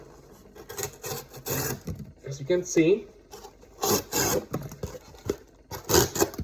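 A Microtech Mini Hera 2 knife rasps and scrapes through cardboard in several rough bursts, with a person talking over and between the cuts.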